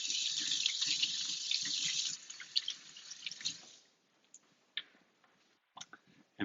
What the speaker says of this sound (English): So I'm going to just rinse my hands real quick.